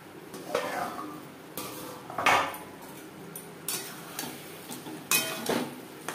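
Metal clanks and clatters of a lid settling over a cooking pot of bhetki fish curry with potatoes on a gas stove, a few separate knocks spread over several seconds, moderately close, with no talk.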